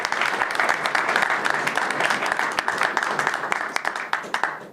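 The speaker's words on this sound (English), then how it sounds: "Let's go a round of applause for Adam." A live audience applauds as a guest named Adam comes on stage at a Glitch event in Marfa, Texas: dense, sustained clapping from a crowd, steady and loud throughout with a slight fade at the end.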